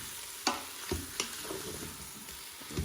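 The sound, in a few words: stirring potatoes in an Instant Pot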